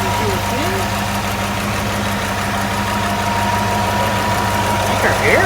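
A 1965 Ford Ranchero engine idles right after its first start since new valve covers and a fuel line were fitted, a loud, steady, close-up rumble with an even pulse from start to finish.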